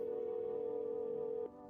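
Telephone tone in the video game No, I'm Not a Human: a steady, clean ringing tone held for about a second and a half, then cutting off abruptly, with no talking.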